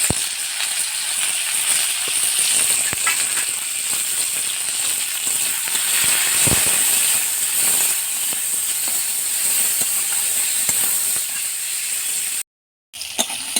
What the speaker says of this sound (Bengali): অল্প ভাজবো, লবণ